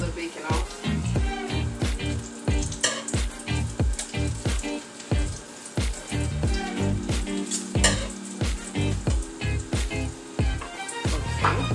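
Bacon slices frying in a pan, a close sizzle broken by a steady rhythm of repeated scraping, tapping bursts from a utensil against the pan.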